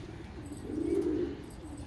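Pigeons cooing while being fed grain, one soft low coo swelling and fading close by, with faint background noise and no talk.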